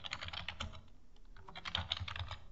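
Rapid typing on a computer keyboard, close and crisp, with bursts of key clicks separated by a short pause.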